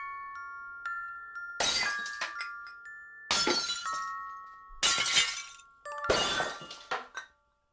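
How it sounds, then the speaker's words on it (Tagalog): Glass shatters as a sound effect in a spoken story, four sharp breaking bursts separated by short pauses, each followed by scattered tinkling shards and faint ringing tones. "may narinig kaming nabasag"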